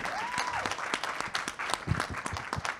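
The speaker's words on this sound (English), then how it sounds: "Can we give them a round of applause?" An alumni conference audience breaks into sustained applause, with dense, steady clapping from many hands filling the room at moderate loudness.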